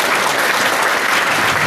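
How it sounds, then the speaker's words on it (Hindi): Audience clapping in honour of women at a university camp event on International Women's Day, a dense, steady burst of applause filling the space from start to finish. "आप लोग जो है इनके सम्मान में ताली बजाओ।"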